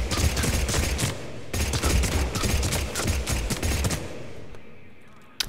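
Gunfire from the Blood Pack Punisher in Mass Effect 3 comes as loud rapid full-auto bursts, cut by one short gap and then fading away, with no talking over it.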